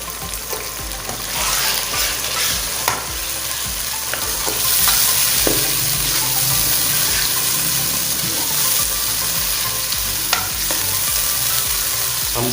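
Boneless chicken pieces frying in a pan over browned onions for a desi-style karahi handi, a loud, steady sizzle with stirring scrapes and occasional clinks, close up and without talk.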